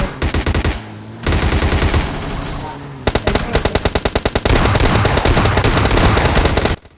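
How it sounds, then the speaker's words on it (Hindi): Rapid automatic gunfire in a battle royale video game, aimed at a buggy's tires until they burst: loud, close bursts of repeated shots broken by brief pauses, with no talk. "तभी बग्गी के पीछे वाले टायर फट जाते हैं"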